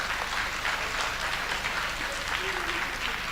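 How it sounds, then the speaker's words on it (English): Audience at a corporate financial results briefing applauding to welcome new senior management members, a dense, sustained round of clapping filling the room, with faint voices underneath. "Please give them a round of applause"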